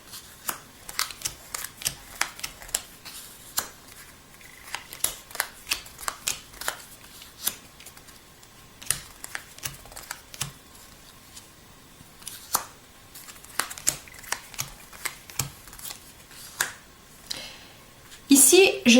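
Oracle cards are dealt out one at a time, giving repeated crisp slaps and snaps of card on card at an uneven, steady pace, close and fairly quiet, with soft handling rustle between.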